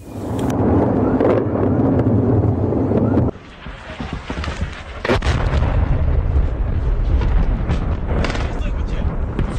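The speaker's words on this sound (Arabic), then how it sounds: "انفجارات متواصلة" Explosions burst one after another in a conflict setting, heavy booming blasts and rumbling with a sharp crack midway, while a voice talks over the continuous noise.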